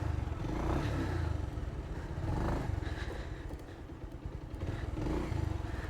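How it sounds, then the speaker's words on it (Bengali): A Bajaj Pulsar motorcycle in worn, poor condition runs close by, its engine producing a steady low thrumming idle with rattling clatter and slight swells in revs throughout. "দেখি বাইকটা স্টার্ট করা যাক।"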